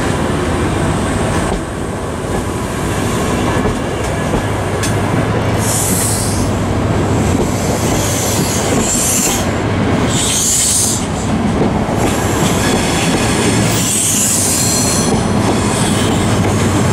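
Train led by Class 82 driving van 82308 departing Manchester Piccadilly, a loud, steady rumble with rail noise and high wheel squeals rising in several bursts as it pulls close past, with no talk.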